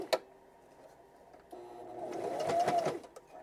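A sewing machine back stitches fabric for a composition notebook pen pouch, a brief tap at the start, then a steady whirring run of stitches that builds in the second half and stays close and moderately loud.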